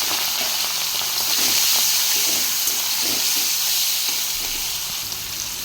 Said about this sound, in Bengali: নুন হলুদ দিয়ে মাখিয়ে রাখা চিংড়ি মাছটা ভেজে নেব।